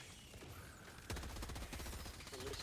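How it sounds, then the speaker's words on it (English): A Liberator Carbine with light armor penetration fires in the video game Helldivers 2, a rapid, sustained automatic burst of loud, tightly spaced shots that starts abruptly after a short lull. "And given Iceman's accuracy, he's going to be able to get the most out of this light pen in the Liberator Carbine and take advantage of the fire rate of that weapon."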